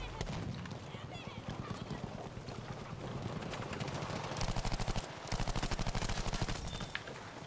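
Dense bursts of rapid gunfire in Battlefield V's Solomon Islands jungle map, with fast automatic volleys rattling near the end, under a constant busy background mix.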